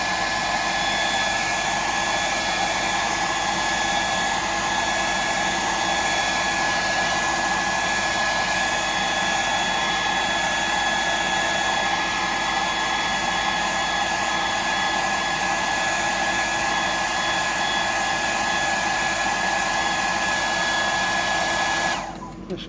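A hair dryer blows steadily on freshly applied paint colour, a loud continuous whirring drone with a faint high whine that runs unbroken for over twenty seconds before cutting off abruptly at the end.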